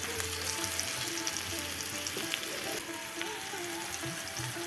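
Ground cumin, chili powder and coriander fry with slit green chilies in oil in a pan during village-style cooking of pond-caught fish, giving a steady close sizzle with occasional stirring scrapes.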